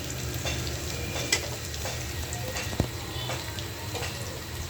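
Potatoes frying in a pan, with a steady close sizzle and a couple of brief stirring knocks.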